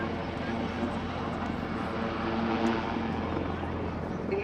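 A Westland Lynx AH.7 helicopter's engine and rotors drone steadily overhead at an airshow, a loud continuous rumble with a faint whine, with speech heard over it.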